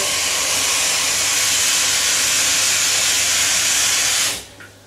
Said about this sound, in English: we're going to put cold water on our potatoes